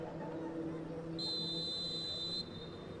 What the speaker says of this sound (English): you can hear the whistles coming in